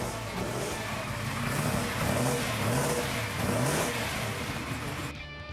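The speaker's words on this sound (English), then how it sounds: "It revs freely, it accelerates pretty hard" Lamborghini Silhouette engine fitted with MSD ignition revving repeatedly, its pitch rising and falling in several swells before cutting off abruptly near the end, loud and close with no talking.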